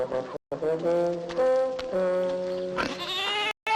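Goats bleat in wavering, drawn-out cries, several calls overlapping, fairly close and clear, with brief silent gaps.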